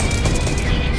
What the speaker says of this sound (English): We're getting shot at? Yeah, you're getting shot.